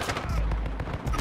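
Rapid loud gunfire in a video game, fired from a pistol modified into a sniper for a long-range shot. Closely spaced sharp cracks run like a quick volley across a brief moment.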